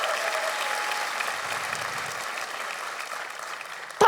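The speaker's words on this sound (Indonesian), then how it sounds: "Boleh minta tepuk tangannya?" An audience at a stand-up comedy competition applauds in a steady, dense wash of clapping that holds throughout before cutting off abruptly at the end.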